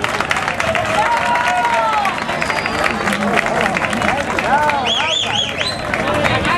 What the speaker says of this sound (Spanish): Un aplauso para Paco y Gino.